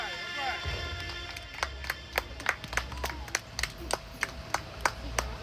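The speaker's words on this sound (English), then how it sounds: "y'all give one more round of applause" Scattered hand claps from an event audience at a Black life appreciation day, individual sharp claps in an uneven rhythm growing more regular, with voices murmuring underneath.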